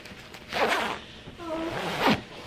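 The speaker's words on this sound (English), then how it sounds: "This is a cool zipper." A zipper on a Calvin Klein jacket is pulled in a few quick close strokes, raspy zips separated by brief pauses, with a faint tonal rub between them.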